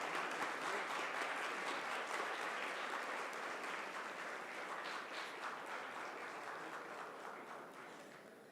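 Sustained applause fills a moot court competition hall, a dense steady wash of many hands clapping that slowly tapers toward the end, with no voices over it.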